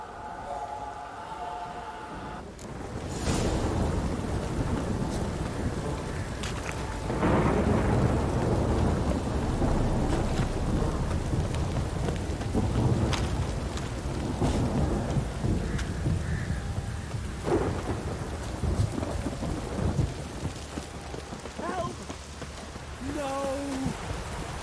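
Heavy rain pours steadily in The Witcher 3: The Wild Hunt, with deep thunder rumbling and rolling through it, loud and continuous, while a few voices speak briefly over the storm.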